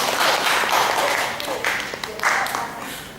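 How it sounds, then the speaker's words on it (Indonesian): A room of attendees claps at an organisation's 14th anniversary gathering, a moderate continuous patter of hands lasting a few seconds, with a voice speaking over it. "Ya, kita beri tepuk tangan ya."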